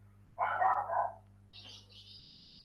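Dogs bark in a short burst of several yips at moderate distance, followed by a faint high-pitched tone, with no one speaking.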